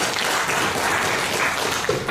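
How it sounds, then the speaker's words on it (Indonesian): Audience applause at an Indonesian RAPI radio association meeting, a loud, dense, continuous clapping that holds steady throughout with a faint voice near the end. "Sekali lagi aplaus buat Pak Amir."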